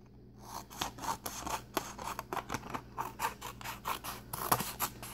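Scissors snipping through paper card for a handmade wedding card, a run of close, crisp rasping cuts in quick irregular rhythm with no talking.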